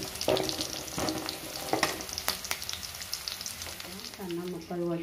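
Cucumber (dosakaya) pieces drop into hot oil with browned onions and fry, with a steady crackling sizzle, scattered sharp bursts and clatter as the pieces go in and settle.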